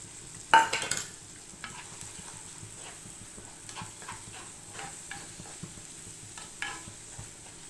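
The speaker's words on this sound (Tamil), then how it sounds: "இந்த மிளகாத்தூளை வந்து நல்லா வதக்கி விட்டுடலாம்" Chili powder, ginger, green chili and shallots fry in oil for a fish curry, with a faint low sizzle and soft scattered stirring scrapes, one louder clatter near the start.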